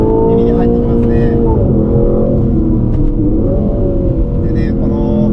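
Aston Martin Vantage Roadster engine heard from inside while driving a winding road, a steady loud drone with rising and falling pitch as revs change, continuous throughout, with a voice speaking over it.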